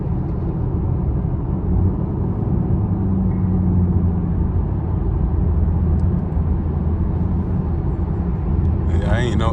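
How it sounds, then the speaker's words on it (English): A 2019 Chevrolet Camaro 2SS V8 running without mufflers gives a loud, deep, steady rumble from inside the car during a drive, with a brief higher squeak near the end. "I got no quieters on this. Supposed to sound good though."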